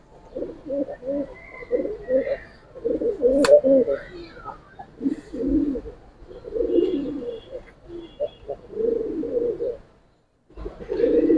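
Young silver gribaz pangkhi pigeons cooing in repeated soft bursts, close by. Someone talks over the coos in places, and there is a brief pause near the end.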